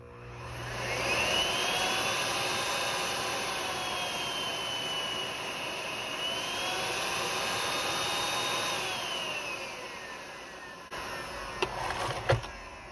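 A Miele C1 vacuum cleaner with a newly replaced motor runs with a loud, steady whine that rises and falls slightly in pitch, then cuts off near the end with a few handling clicks and thumps.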